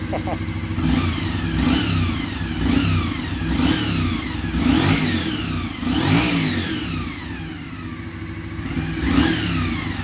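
A stock 1988 Honda NC24 VFR400R with a gear-driven-cam 400cc engine revs repeatedly, each sharp blip climbing high and falling back to a buzzy idle, close and loud, with a voice speaking over parts of it.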